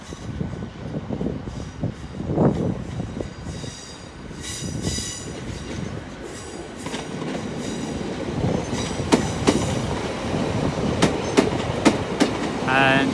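A passenger train pulls into Exeter St Davids station on a Sunday afternoon, wheels clattering over joints and squealing sharply in bursts as it slows nearby, with faint talk in the background.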